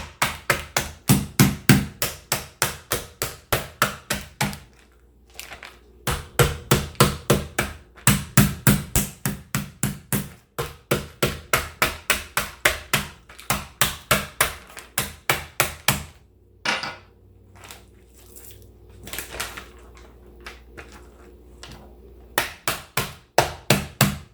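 A hammer pounds chicken bones repeatedly in fast bursts of heavy, close blows, with brief pauses between volleys and a few softer, scattered hits toward the end.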